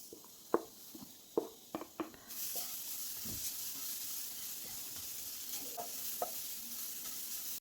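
Fresh grated coconut is stirred in a hot pan, opening with several distinct spatula taps and scrapes, then settling into a steady, faint roasting sizzle with occasional soft stirring knocks.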